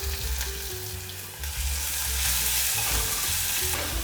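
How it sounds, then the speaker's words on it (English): Finely chopped onion sizzles loudly in hot oil with cumin seeds for restaurant-style matar paneer, a steady close frying hiss with stirring scrapes throughout and no speech. "I'll be adding in 1 medium size finely chopped onion."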